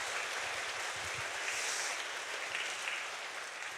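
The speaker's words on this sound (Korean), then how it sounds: "우리 성가대 위해서 박수 한번 주시죠" A church congregation applauds the choir at a Friday revival service, a steady, fairly faint wash of clapping from many hands that holds even for a few seconds with no talk over it.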